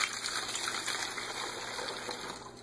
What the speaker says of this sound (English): Now we're going to be adding the vinegar into the 2 liter bottle.